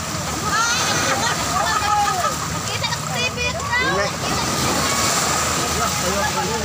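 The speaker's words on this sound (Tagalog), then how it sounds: "Grabe guys, ang lakas ng alon nito guys oh." Strong sea waves crash and slosh continuously at the shore of Cawayan, Masbate, a steady rushing wash under several people chatting nearby.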